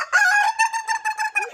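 Chickens cluck and a rooster crows in a loud, close burst of harsh, wavering calls lasting about a second and a half, with no talk over them.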